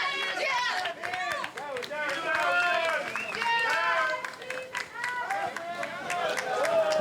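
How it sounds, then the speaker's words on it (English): Applause and crowd chatter for a young actress in a traditional Japanese dress at the Cannes 2014 photocall for Still the Water, steady clapping mixed with voices and a commentator talking over it throughout. "Elle est très applaudie."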